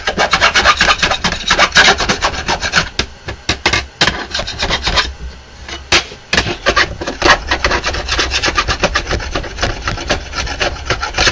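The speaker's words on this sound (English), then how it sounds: "Now I'll flip this over and take the file to the back side." A metal file rasps burrs off the back side of diamond plate in repeated rough scraping strokes, loud and close, with brief pauses between passes.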